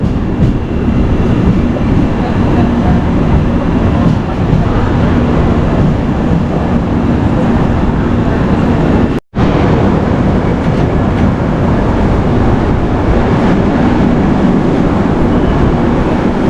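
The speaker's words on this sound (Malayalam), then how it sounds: "റെയിൽവേ സ്റ്റേഷനായിട്ടുണ്ട്. ഇവിടെ നല്ല തിരക്കുണ്ട്." A train rumbles steadily through busy Kottayam railway station, with continuous rolling mechanical noise and a brief dropout partway through.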